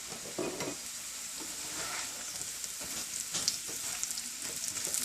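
Eggplant (baingan) frying in a pan for a Punjabi radish-and-eggplant sabzi, a steady close sizzle broken by intermittent scraping stirs throughout.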